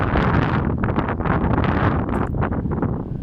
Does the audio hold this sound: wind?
yes